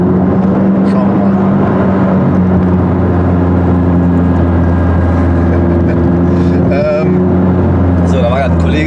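A McLaren 570S sports car cruises on the road, its engine giving a loud, steady droning hum with strong, even tones, while someone talks over it in German.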